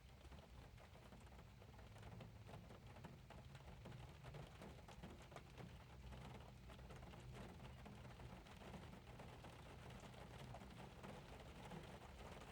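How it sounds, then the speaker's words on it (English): Steady light rain pattering on a car windshield, a dense continuous patter with faint drips, heard from inside the car with no talking. "I'm just enjoying the pitter patter of the raindrops on my windshield."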